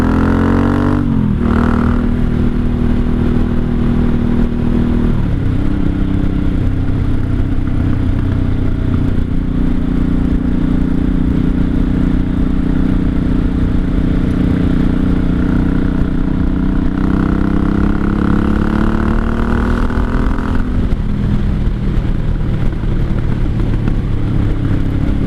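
Engine of a 1983 Honda Shadow VT750C motorcycle under way, a steady rumbling drone that shifts pitch as it accelerates and changes gear, loud and continuous throughout with wind noise.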